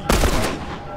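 A single loud, close gunshot rings out in The Last of Us Remastered, a sharp blast followed by a short decaying echo.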